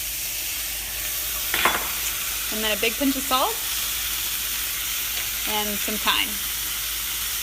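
Steady sizzling and frying hiss from cherry tomatoes blistering in a hot pan continues throughout, with a person talking over it in short bursts.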